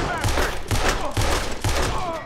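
Gunfire in the Western video game Red Dead Redemption 2, four loud evenly spaced shots about half a second apart, each with a sharp crack and a short rumbling tail.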